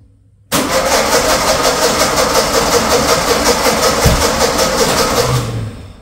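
A 1958 VW Beetle engine cranks on its starter in one continuous loud, rapid churning run close by, nearly firing, then winds down and stops.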